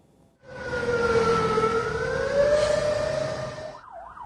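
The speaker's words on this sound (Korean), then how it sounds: "공습경보 사이렌이 울리자 거리에서 대피 안내 방송이 나오고" A loud air raid siren wails with a long, slowly rising and falling tone, sustained for several seconds before starting to cycle again.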